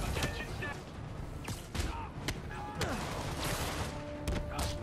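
Gunfire in a Spider-Man video game: sharp, rapid shots and impacts crackle through a busy mix of game sounds, with a voice talking over the action.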